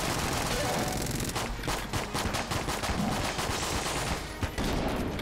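Rapid gunfire from the Patriot gun in the video game Enter the Gungeon, a dense stream of loud, fast shots that runs almost continuously, with brief gaps near the middle and end.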